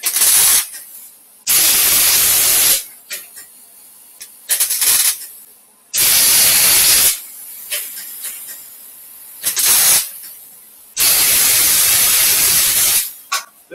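A welder lays tack welds on a Ford F1 cab, producing loud bursts of crackling, hissing arc noise lasting about one second each, separated by short quiet gaps and faint clicks.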